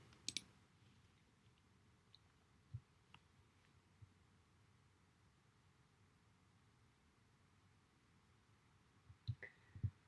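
Mouse clicks on a computer while running a recorded trace in Usetrace web testing software: a quick pair of sharp clicks at the start, a couple of lone faint ticks, then a cluster of clicks near the end over quiet room hiss.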